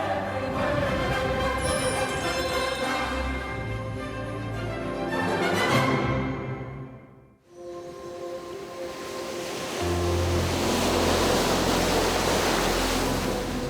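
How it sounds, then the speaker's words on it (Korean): Rough winter sea waves on the East Sea coast just after a storm warning was lifted, a loud continuous roar of surf that briefly dips and then surges back, with no speech. "며칠 동안 동해안에 내려졌던 풍랑주의보가 막 해제되었지만 파도의 기세는 여전히 매섭습니다"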